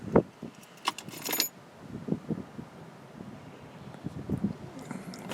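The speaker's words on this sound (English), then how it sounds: "I'm gonna pull my keys out of my car." Car keys jangle as they are pulled out of a car, a few bright metallic jingles up close, followed by scattered soft rustles and clicks over light wind noise.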